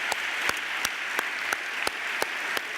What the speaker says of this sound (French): c'est maintenant le moment d'accueillir et d'applaudir pour une dernière fois tous les lauréats de ce soir